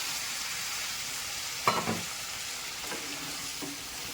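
A small splash of water goes into mutton-fat ghugni cooking on low heat, leaving a soft, steady sizzle punctuated by a few faint stirring clinks.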